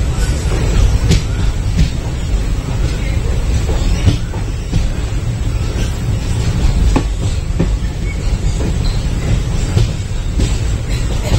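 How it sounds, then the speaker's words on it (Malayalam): A passenger train bound for Kannur runs along railway tracks, its loud steady rumble filling the whole stretch with periodic rail clacks and brief clicks, no talk over it. "അപ്പോൾ ഏകദേശം കണ്ണൂരിലേക്ക് ഓടിക്കൊണ്ടിരിക്കുകയാണ് ട്രെയിന്"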